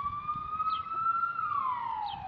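A police car siren wails in long, steady rising and falling tones, fairly loud and close, with faint background noise and no talking.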